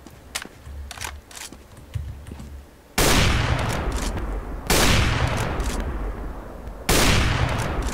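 Gunfire in short, controlled bursts during an Overwatch training course, with three loud sustained volleys after a stretch of faint scattered clicks and footsteps, each burst dense and close.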